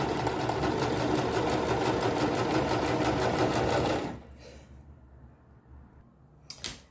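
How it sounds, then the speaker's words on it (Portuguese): A sewing machine runs a straight seam joining two fabrics placed right sides together, steady loud motor whir with rapid needle clatter for about four seconds, then stops, leaving quiet room noise and a brief click near the end. "E agora, sigo costurando um pezinho de máquina."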